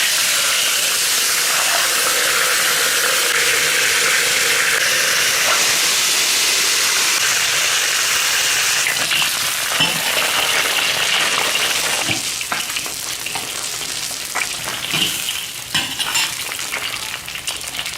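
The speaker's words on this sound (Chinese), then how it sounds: "锅里倒点油， 放入鱼煎" Pieces of a large silver carp frying in oil in a wok, a loud, close, continuous sizzle that roars evenly at first, then grows crackly with scattered pops and spatters.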